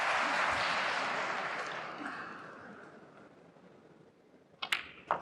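A snooker crowd roars and applauds at a championship semi-final, loud and broad at first and then slowly fading to scattered claps, with a couple of sharp knocks near the end.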